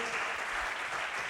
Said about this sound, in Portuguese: Aplauda ele mais uma vez